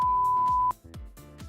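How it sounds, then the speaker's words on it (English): A single steady electronic voicemail tone holds for under a second and cuts off, with bouncy music thumping underneath and continuing afterward. "Please leave a message after the beep."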